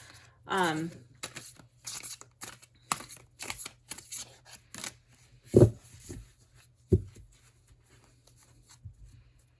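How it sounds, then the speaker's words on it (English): Repeated crisp riffling and slapping of tarot cards being shuffled by hand, in short bursts with pauses, close and fairly loud. "That's how I usually shuffle the Dark Mansion Tarot."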